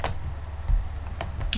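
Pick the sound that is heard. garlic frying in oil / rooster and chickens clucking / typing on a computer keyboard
typing on a computer keyboard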